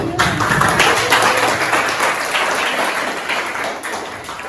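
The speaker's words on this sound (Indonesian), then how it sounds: "Ya, tepuk tangan." Classroom applause from students during a lesson: dense, fairly loud clapping that fades slightly toward the end, with some voices mixed in.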